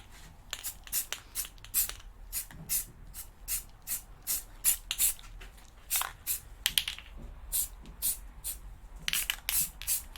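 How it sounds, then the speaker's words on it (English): A spray paint can gets shaken and then fires short bursts of primer onto art toys, the hissy sprays coming in a quick uneven series, close and fairly loud. "So just shaking my can again."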